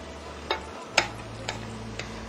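Spoon stirring onions and garlic in a pan for lasagna, four evenly spaced sharp taps against the pan over a faint low sizzle, close by.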